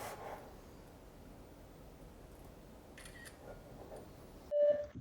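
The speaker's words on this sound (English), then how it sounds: "Now let's take our first selfie." A Blackview Tab 10 budget tablet takes a selfie, with a short electronic shutter click and tone near the end after quiet room noise and a few faint handling taps.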